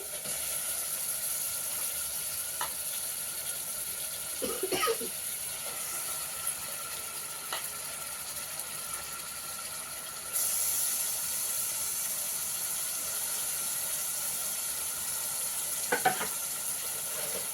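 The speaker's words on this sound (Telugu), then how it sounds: "ఇప్పుడు మటన్ వేసేస్తున్నానండి" Mutton for a restaurant-style mutton kurma fries in a pan with a steady, moderate sizzle, broken by a few sharp clinks and scrapes of stirring, with no talk.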